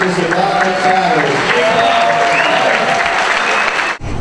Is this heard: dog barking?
no